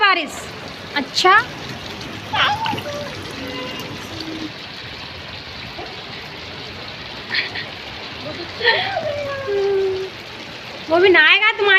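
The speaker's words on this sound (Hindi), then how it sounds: "अच्छी लगती है बारिश।" Steady heavy rain during a long monsoon downpour, a constant hiss close by, with voices chatting and calling over it now and then.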